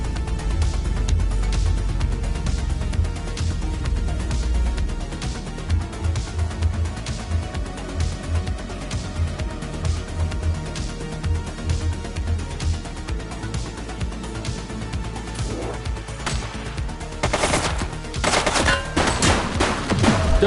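Gunfire in the video game The Precinct, long runs of rapid automatic shots in a steady, evenly spaced rhythm, loud and close, with a few heavier bursts near the end.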